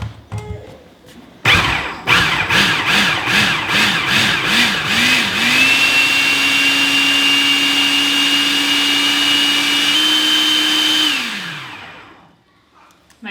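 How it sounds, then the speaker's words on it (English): A food processor mixing chocolate pudding starts with a few pulsing bursts, then runs steadily with a loud, close motor whine that rises slightly in pitch and finally winds down to silence. "My food processor is leaking a little bit, and I see it coming together"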